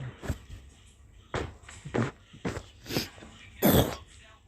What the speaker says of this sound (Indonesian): Minum es terus batuk.